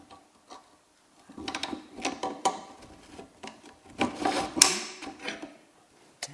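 Tapping and prying a badly rusted cotter pin out of a seat assembly, with irregular close metallic clicks, scrapes and knocks that grow busier partway through, with no voices.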